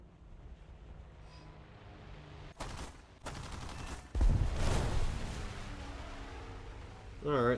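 Aircraft guns rattle in short bursts as a B-25 bomber is shot down in War Thunder, sharp fusillades cutting through steady engine and wind roar, with a heavier burst near the end.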